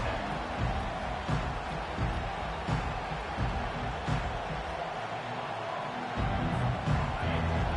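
A college football stadium crowd cheers and roars in a dense, steady wash of noise, with faint swells and no speech over it.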